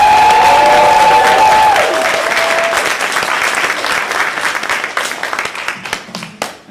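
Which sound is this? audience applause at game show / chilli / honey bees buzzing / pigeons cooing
audience applause at game show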